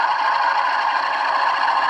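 A Bachmann Class 47 model locomotive's DCC sound decoder revs its diesel engine, a steady, loud, continuous drone with a slight rattle, heard alone with no talk.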